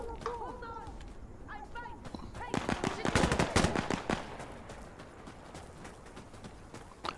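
Bursts of rapid automatic gunfire from a drum-fed gun in a video game crackle loudly in the middle, after a voice speaks over the quieter opening.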